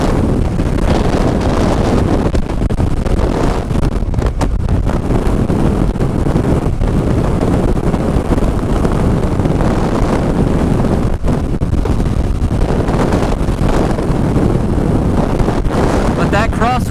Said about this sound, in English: But that crosswind is really something. It's super gusty.